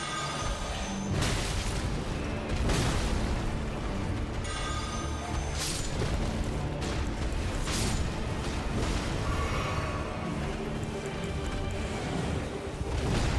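Thrown pots burst in Elden Ring over a continuous din of battle, with several sharp explosive cracks and crashes spread across the scene at moderate loudness.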